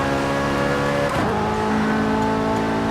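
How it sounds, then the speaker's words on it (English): Chevrolet Corvette C8 Z06 with a flat-plane crank V8 in Forza Horizon 5, a steady high engine drone with layered harmonics that briefly shifts pitch mid-way, as in a gear change or rev dip, then holds a loud, buzzy tone. "That's because it's a C8Z06 with a flat plane crank engine."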